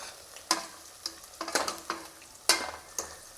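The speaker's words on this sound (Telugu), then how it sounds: "ఇవి రెండు వేసేసిన మంచిగా మిక్స్ చేసేద్దాం." Bay leaf and cinnamon stick frying in oil in a pan for mutton curry are stirred with a utensil, giving irregular scraping sizzles and clinks, each stroke a short burst over a steady low frying hiss.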